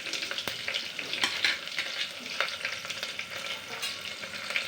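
Chopped onions with two chillies and two bay leaves frying on low flame in a pressure cooker, a steady close sizzle with occasional stirring scrapes and crackles, no voices.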